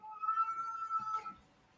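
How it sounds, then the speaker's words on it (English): A cat meows once in a long, tonal, rising-and-falling call lasting over a second, fairly close and clear, with no talking over it. "The cat is singing at the moment."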